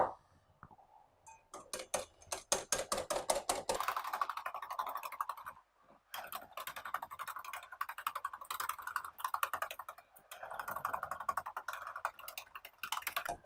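Rapid rhythmic ticking of a whisk beating scone mixture by hand in a bowl, steady and fairly close, with a brief pause midway before the strokes resume.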